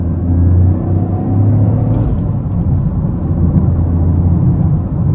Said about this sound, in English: We try to pull in second gear, about half throttle.